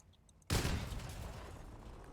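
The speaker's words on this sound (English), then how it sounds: "And pretty meaty explosion." Explosion from the Harpy weapon in the Crossout vehicle combat game, a sudden loud blast after a quiet moment, followed by a long rumbling decay.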